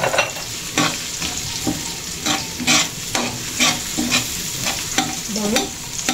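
Onion fries in a pan as the base for macaroni spaghetti, a loud close sizzle broken by repeated scraping strokes of a spatula stirring the pan.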